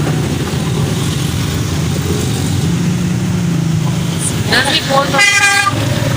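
Several car horns honk near the end in short repeated blasts, over a steady rumble of busy traffic in Lahore; a voice is faintly present beneath.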